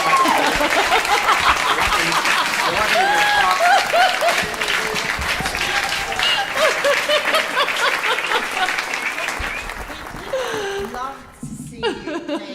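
Audience applause from a crowd at a guitar performance show, sustained and loud with scattered whoops and chuckles, tapering off near the end as talk resumes.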